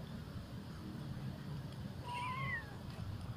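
A female cat meows once in a rising, wavering cry, close by outdoors over steady low background rumble during a walk.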